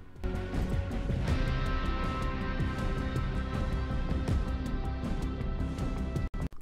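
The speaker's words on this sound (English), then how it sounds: "Epic Games has changed their menu music and it never used to sound like this." Fortnite Battle Royale menu music plays steadily, layered tones over a soft beat, cutting out briefly near the end.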